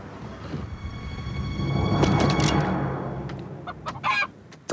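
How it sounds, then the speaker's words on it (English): Chickens cluck in a Carl's Jr. fast-food commercial, several close, loud clucks building to a busy middle and then a few sharp squawks at the end. "Chicken."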